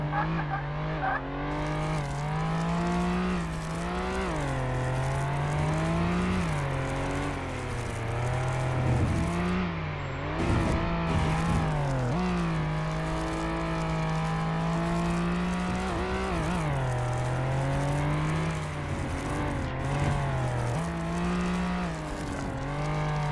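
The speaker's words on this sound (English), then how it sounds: "It's an interesting sound effect for running over the sand" In the police game Flashing Lights, a vehicle drives over sand with a steady engine drone whose pitch rises and falls as it speeds up and slows, plus some tire scraping, heard continuously and close with no talk.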